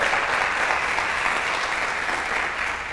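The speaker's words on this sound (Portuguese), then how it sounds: "Dá um aplauso ao Senhor aí" A church congregation applauds together at a worship service, a dense, steady wash of clapping that fills the space without pause and holds at an even level throughout.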